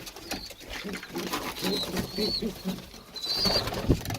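Tumbler pigeons, including a large bird and its Adana mate, coo in a loft with repeated low throaty calls and some wing and body rustling nearby, fairly soft, with no speech.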